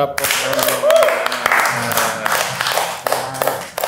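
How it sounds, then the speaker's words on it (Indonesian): Podcast participants in a small studio clap their hands to close the episode, giving a loose run of sharp, close claps with voices talking around them. "Kita harus tepuk tangan yang terakhir."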